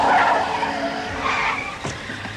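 A car skids with a sharp squeal of tires after running a stop sign, close and loud, then a brief screech near the end as it comes to a stop; nobody speaks.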